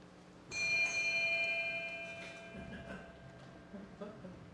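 Two ringing ship's bell strikes sound together, with a bright sustained metallic tone that decays over several seconds in a room, followed by faint background rustle.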